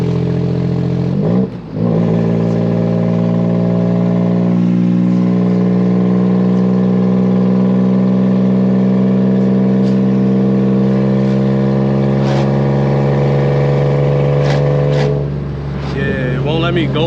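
A Nissan Maxima with a swapped 2018 HR engine and a six-speed manual gearbox drives along. The engine gives a loud, steady drone that holds throughout, with a slight change near the end.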